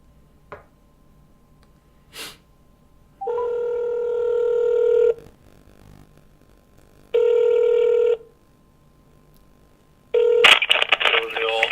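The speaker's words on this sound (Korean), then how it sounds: "그럼 경제호랑이 선생님께 전화 드리겠습니다." A phone call is placed from a broadcast studio to a guest: a short burst of dialing tones, then two loud, long electronic rings with a pause between, and a noisy connection at the end.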